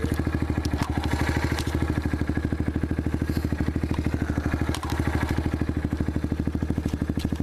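A Yamaha TT-R 230 dirt bike fitted with a full aftermarket exhaust runs with a rapid, even, thumping single-cylinder pulse, loud and close throughout, with some clatter on top.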